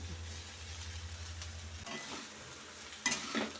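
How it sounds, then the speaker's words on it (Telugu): Hot cooked rice is mixed by hand or spoon for mango pulihora, a soft steady sizzling hiss with a low rumble giving way to a few scraping stirs and a sharper clatter near the end. "రైస్ వేసుకొని బాగా ఇలా కలుపుకోవాలి"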